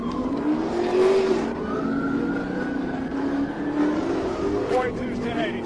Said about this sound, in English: a trooper spotted a Chrysler 300 doing donuts in the middle of a busy Atlanta intersection